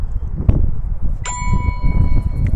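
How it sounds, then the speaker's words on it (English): The M5Stack Card Computer plays a bright electronic start-up ding when switched on. A single clear chime rings out and sustains over low background rumble, with no talking. "It's got a delightful little ding that chimes when you turn it on."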